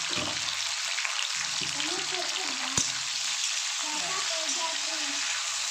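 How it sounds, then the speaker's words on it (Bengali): Flat beans frying in a pan with salt, a steady close sizzle running throughout with faint stirring scrapes and one brief sharp clack midway. "একটু কালারটা চেঞ্জ হওয়া পর্যন্ত একটু ভেজে দেখুন সিমগুলো আমি এইভাবে একটু ভেজে তুলে নিয়েছি"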